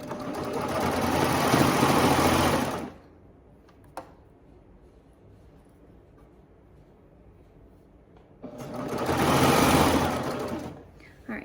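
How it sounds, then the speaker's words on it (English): A serger overlock sewing machine stitches a fabric waistband in two loud whirring runs of about three seconds each, separated by a quiet pause with light handling sounds. "So let's go ahead and serge the first point."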